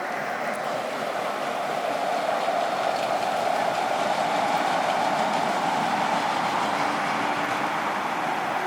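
A Zierer kiddie roller coaster train runs at Parc Asterix, a steady distant rolling rumble and wheel roar that holds evenly throughout with no talking.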